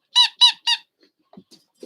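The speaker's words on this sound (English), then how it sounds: "If you hear a squeaking in the background, it's his hamburger." Three loud, bright squeaks from a squeaky hamburger dog toy come in quick succession close to the listener, followed by faint small rustles and thumps.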